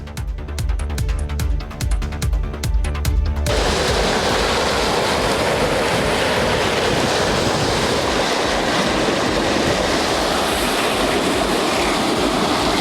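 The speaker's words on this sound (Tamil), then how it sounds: "ராமநாதபுரம் மாவட்டம் வடக்கு கடல் பகுதி வழக்கத்திற்கு மாறாக சீற்றத்துடன் காணப்பட்டது" Rough, unusually fierce sea waves on the northern coast of Ramanathapuram district, stirred by a deep depression over the Bay of Bengal: a loud, continuous roar of surf with wind buffeting the microphone, following a short rhythmic musical sting.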